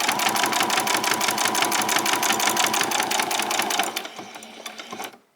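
A sewing machine back stitches a summer top, hammering out a rapid, even rhythm up close before it slows and stops, leaving a few faint handling sounds at the end.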